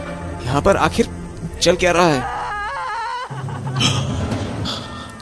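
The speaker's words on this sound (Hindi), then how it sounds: "ये किसकी रोने की आवाज है?" Wailing, moaning cries in a spooky house setting rise and fall in several bursts, mixed with and partly under conversational talk; a drawn-out crying tone runs through much of the scene.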